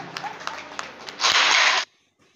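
Family applauding at a Marathi baby-shower celebration, a short burst of claps after some scattered background noise, ending abruptly.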